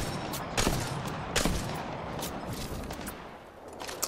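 Gunfire in the video game Apex Legends, with sharp shots bursting out at irregular intervals against a dense, noisy background of game sound.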